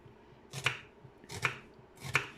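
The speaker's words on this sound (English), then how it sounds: "Normally I prefer my chef knives for chopping." A chef's knife chops onions on a board, three crisp, evenly spaced strikes about three-quarters of a second apart, close and moderately loud with no talking.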